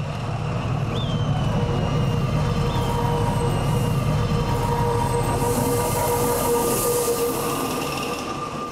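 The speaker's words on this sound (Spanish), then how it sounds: "El cruce del puente del Socavón indica que la máquina está atravesando la ciudad de" A train crossing the Socavón bridge in Ambato, Ecuador: a steady, loud rumble of wheels and rail noise with squealing metallic tones rising and falling throughout, heard alone without talk.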